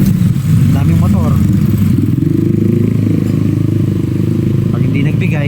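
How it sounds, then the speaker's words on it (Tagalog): Heavy traffic on a busy road in Pasig City, thick with motorcycles: a continuous loud roar of engines and rumbling wheels as bikes pass close by, with clattering and scraping and brief revs rising above the wash. "Daming motor."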